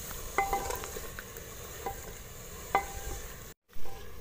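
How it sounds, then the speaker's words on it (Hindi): Chopped tomatoes and green chillies frying in a pan for street-style aloo chole, a low steady sizzle with a few light scraping stirs, a brief cut to silence, then a short louder burst. "ये दोनों चीज़ें डालने के बाद तब तक भूनेंगे जब तक टमाटर बहुत अच्छी तरह गल नहीं जाते"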